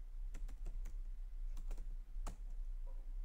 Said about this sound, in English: you type pip install Matplotlib.